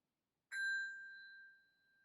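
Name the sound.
Montessori bell struck with a hammer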